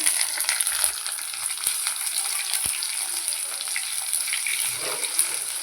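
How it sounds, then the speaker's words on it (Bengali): Onion frying in a pan after garlic has browned, producing a continuous bright hiss with a few soft clicks and stirring scrapes, close and alone without talk. "পেঁয়াজটা দিয়ে দিলাম"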